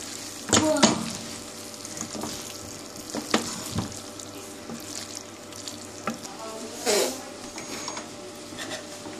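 Coriander being stirred into spicy Indian-style pasta in a pan: a soft, steady scraping and sizzle, with a few louder clatters of the spoon against the pan.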